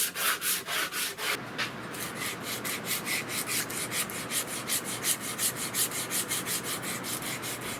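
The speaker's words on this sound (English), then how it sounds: "See, I'm still shaping, even though I'm using a 50 grit sand block." A 50 grit sand block is rubbed back and forth over a wooden shotgun stock for a Spanish-made Richland Arms 20 gauge. Close, rhythmic rasping strokes repeat steadily throughout, with no talk.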